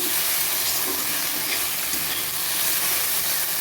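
Okra (bhindi) fries in a pan with a dense, steady hissing sizzle, close and fairly loud, continuing without pause and with no talk over it.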